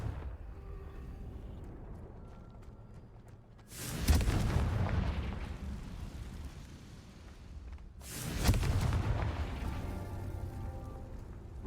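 Two big spell blasts from a Confringo cast in Hogwarts Legacy, each a loud full-range burst with a rolling tail, about four seconds apart over a steady rumbling game backdrop.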